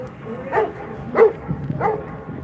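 A dog at a street protest outside the state capitol building in Harrisburg, Pennsylvania, gives three short barks or yips at even intervals, close by and moderately loud over a low murmur of crowd noise.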